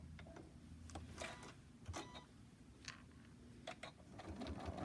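Sewing machine back stitching a silicone trivet, a quiet rapid mechanical chatter of needle strokes with a few brief louder clicks, heard close up with no talking.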